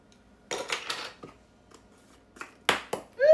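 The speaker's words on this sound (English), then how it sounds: "Oops. Drop my lid." A kitchen pot lid clatters onto the floor while turkey stuffing balls are being made, a few sharp metallic clanks and rattles spread over a few seconds, ending with a ringing settle.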